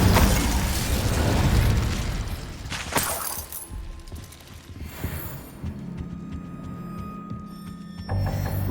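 A spell-casting burst in Hogwarts Legacy, the Incendio fire charm, erupts loudly at the start as a roaring blast that fades into crackling, shimmering magical effects and lower rumbling tones over several seconds.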